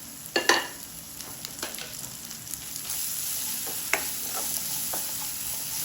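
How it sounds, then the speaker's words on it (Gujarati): Cumin seeds sizzle in hot oil for a tempering, prepared for a farali parotha and vegetable dish, giving a steady, soft frying hiss with scattered crackles and pops, close and alone without talk. "તમારે ખાલી આપણે જીરાનો જ વઘાર કરવાનો છે."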